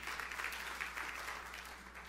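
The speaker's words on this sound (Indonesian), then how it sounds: "Tepuk tangan yang meriah untuk kemuliaan Tuhan." Steady applause from a crowd, a dense patter of clapping that fades slightly toward the end.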